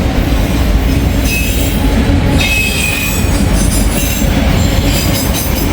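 A CSX freight train rolls past close by in Kentucky, a loud, steady rumble of wheels on rails with high metallic squeals and clicking over the joints throughout.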